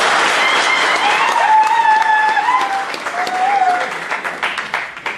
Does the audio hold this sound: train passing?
no